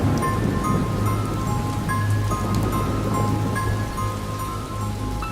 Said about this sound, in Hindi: जोर जोर से बादल गरज रहे थे और साथ में लगातार बारिश।